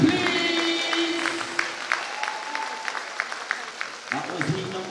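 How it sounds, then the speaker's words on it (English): A crowd at an indoor track meet gives scattered, fairly faint applause with a few sharp individual claps, heard under a voice on the public address. "Round of applause for our athletes, please."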